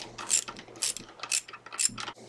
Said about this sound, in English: make sure you install your new pin retainer